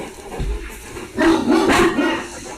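A dog gives a few short, low barks and grumbles at close range indoors, brief and moderately loud.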